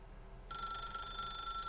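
A telephone in The Stanley Parable bursts into a steady, bright electronic ring after a half-second of quiet, holding loud and continuous to the end with no talking.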